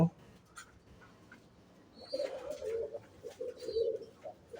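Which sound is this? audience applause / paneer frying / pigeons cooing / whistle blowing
pigeons cooing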